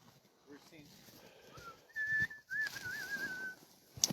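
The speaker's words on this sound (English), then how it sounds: "Got the whistle going on." A person whistles a few sustained, wavering notes, close and clear, after some faint background murmur, at the Tolsona checkpoint of the Copper Basin 300 sled dog race.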